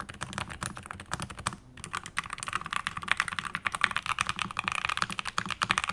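NuPhy Air low-profile mechanical keyboard with brown tactile switches, typed on quickly and steadily at close range, a dense stream of crisp key clicks with a short pause near the start.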